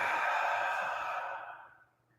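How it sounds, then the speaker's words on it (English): A long, steady exhale during a breathing exercise in a morning movement class, one breathy rush of air that holds for over a second and then fades away. "Inhale and exhale."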